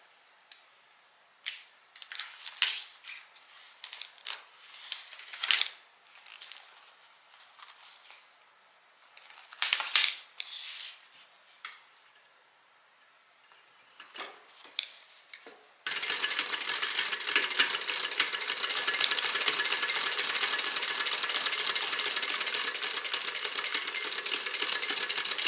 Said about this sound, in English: I'll go ahead and stitch that.